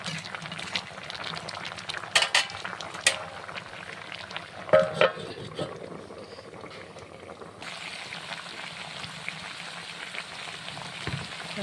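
Goat meat red curry bubbling in a covered pot over a wood fire, a low continuous simmer with scattered crackles, pops and a few louder clatters, and no voices.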